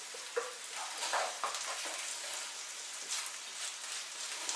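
Salmon fishcakes fry in a skillet with a soft, steady sizzle and faint crackling pops, quiet and continuous, with occasional light taps.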